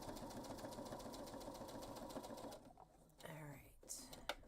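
A sewing machine stitches a backpack, running in a fast, even rhythmic chatter for a few seconds before stopping, followed by quieter handling noises nearby.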